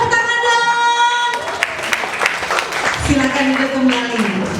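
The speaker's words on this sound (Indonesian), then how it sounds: "Tepuk tangan dong." A congregation at a combined Christmas service of an orphanage and children's church claps in a brief burst of applause, mixed with singing and voices from the crowd.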